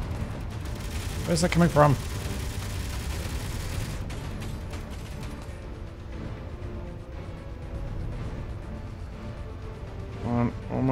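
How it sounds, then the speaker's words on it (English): Gunfire from an enemy ship in Space Engineers, a clattering burst of shots early on over a steady mechanical hum, with more faint impacts later and someone talking over it. "Taking fire, taking fire!"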